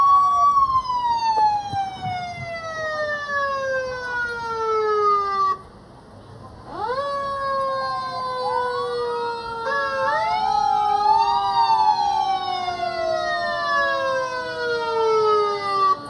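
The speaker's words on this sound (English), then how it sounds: "They love hearing those sirens go off and those flashing lights." Emergency vehicle sirens wail loudly at a St. Patrick's Day parade in Maple Lake, several sirens sweeping up and down and overlapping, with a short break midway before they start up again.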